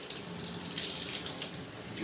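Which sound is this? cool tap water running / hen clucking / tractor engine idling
cool tap water running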